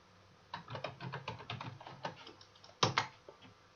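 Someone types on a computer keyboard nearby, tapping out a quick, uneven run of keystrokes, then two sharper, heavier key presses near the end. No one speaks.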